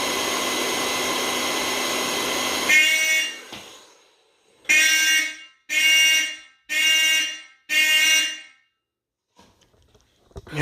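A vintage Simplex 4251 fire alarm horn blares during a system test, first a long steady blast, then four evenly spaced loud honks with brief silences between.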